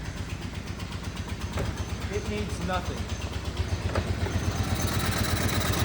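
A mini truck with a blown-up engine idles close by with a steady, fast, puttering pulse that resembles a golf cart, while someone talks over it.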